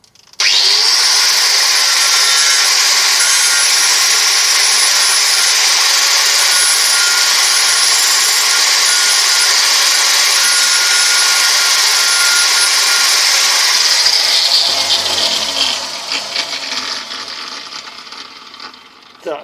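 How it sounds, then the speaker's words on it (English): An angle grinder with a flat disc grinds a wooden knife handle made from an upcycled metalworking file, giving a loud, steady high whine for about fifteen seconds before it spins down and fades. "I'm just going to get the angle grinder on with a flat disc on."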